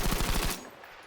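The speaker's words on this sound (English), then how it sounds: "this is me shooting without trying to control the recoil" An M1907 firing full-auto in Battlefield V, a rapid burst of loud close gunshots lasting about half a second before cutting off, then a short tail and one faint click.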